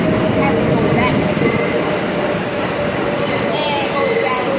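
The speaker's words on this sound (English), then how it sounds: "And it goes down to the crossover and go on that side." A 7 subway train at the 34 Street station gives off steady, loud rumbling and rattle, with high metallic wheel squeals rising above it at intervals through the whole stretch.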